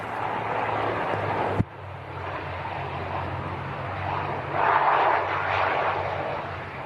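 An Aer Lingus ATR turboprop arriving from Belfast makes a steady broadband engine roar with a low propeller hum, swelling slightly toward the end, heard from a distance with no talk.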